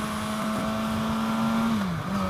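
A 2016 Suzuki GSX-S1000 motorcycle engine drones close and loud at high revs, holding a steady pitch that dips briefly near the end.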